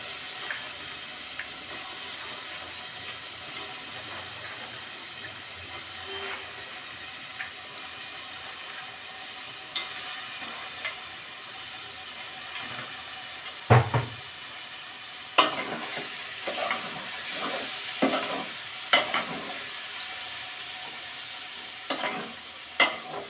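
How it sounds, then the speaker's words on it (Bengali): Chickpea dal with shrimp sautéing in a pan: a steady sizzle and frying hiss runs throughout, broken by a cluster of louder scraping and stirring strokes in the second half, with no talk. "আগে অনেকক্ষণ ধরে কষিয়ে নিব"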